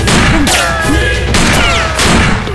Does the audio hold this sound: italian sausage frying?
no